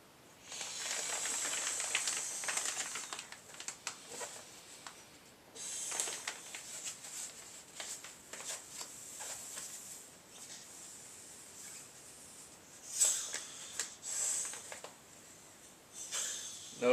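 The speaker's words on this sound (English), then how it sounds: "you pull the valve out and then you blow into it" Breath is blown in long hissing puffs into the valve of an inflatable sleeping pad. The gusts are close and airy, separated by brief pauses, and a sharper burst comes near the end.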